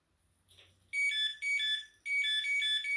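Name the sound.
Kudos fishing bite alarm sounding as the line moves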